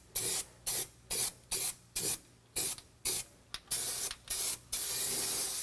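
Primer sprays from a can onto a car's rusted interior floor panel in about a dozen short, sharp hissing bursts in quick rhythm, close by, then one longer continuous spray at the end.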